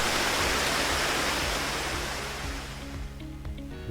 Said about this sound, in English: rain has started